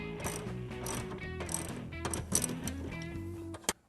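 A ratchet fitted with an 18mm socket loosens the seat bolts on a Jeep JK in quick bursts of clicking, with a few sharp metallic knocks near the end.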